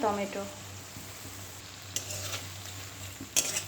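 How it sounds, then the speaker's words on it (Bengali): Chopped tomatoes are stirred into a frying chili-powder spice masala, a steady close sizzle punctuated by spatula scrapes against the pan. "টমেটোটা ভালো করে মিশিয়ে দেবো এবং যতক্ষণ না কাঁচা গন্ধটা যায় ততক্ষণ ভাজবো"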